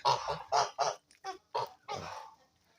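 Several short, loud honking calls from Kholmogory geese, grey and blue-grey with white, close by, coming in quick irregular bursts followed by a longer drawn-out call.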